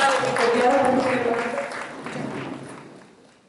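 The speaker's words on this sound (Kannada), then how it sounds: "ಒಂದು ಚಪ್ಪಾಳೆ ತಟ್ಟಪ್ಪ" An audience claps at the inauguration ceremony of a solo-play writing camp held with Belagavi district women writers. The applause is mixed with a speaking voice and fades away over a few seconds.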